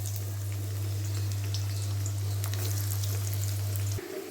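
Chopped onions frying in leftover oil after potatoes: a continuous crackling sizzle over a low electrical hum, steady and near, cutting off just before the end, with no speech.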